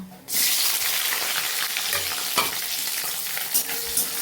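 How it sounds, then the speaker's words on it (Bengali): Onion, garlic and green chilli hit hot oil tempered with panch phoron and bay leaf, erupting into a loud, steady sizzle with a few brief stirring knocks, close and without talk. "এবার এর মধ্যে আমি এদিকে পেঁয়াজ রসুন কাঁচা লঙ্কা এগুলো একবারই দিয়ে দেব"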